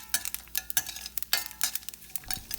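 Hing and cashew nuts frying in a pan, stirred with a utensil in quick scraping strokes over a soft steady sizzle, close and clear with no talking.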